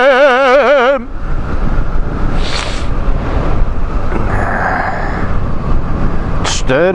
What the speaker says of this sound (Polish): Jedziemy motorem.